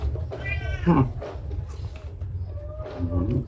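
A cat meows near a family seafood meal, a short plaintive call rising over low room noise with faint clatter and murmur around it.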